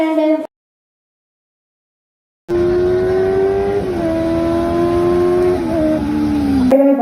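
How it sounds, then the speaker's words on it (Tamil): A vehicle races fast through a narrow side street during a stage play, a loud, close, steady engine roar with a droning whine that cuts in after a stretch of silence. "குறுக்கு சந்தில இவ்வளவு வேகமா வண்டி ஓட்டிட்டு போறாங்க"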